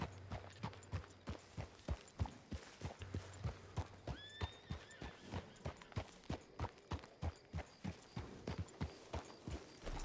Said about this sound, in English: Horse looked like it had shoes on.